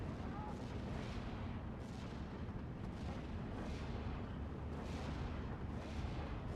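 Katyusha rocket artillery firing in the strategy game Steel Division 2, a dense run of deep booming launches and rumbling blasts repeating every second or so, with a voice faintly under the barrage.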